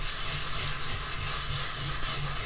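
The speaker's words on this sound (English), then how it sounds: "We're smoothing the pastel in to get smooth coverage." Fingers smoothing chalk pastel across paper make a continuous soft, dry rubbing hiss, close up and steady throughout with slight swells in texture.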